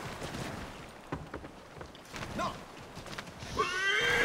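A horse whinnies near the end after a stretch of scattered thumps and hoof-like clatter, loud and close, in the video game Assassin's Creed III.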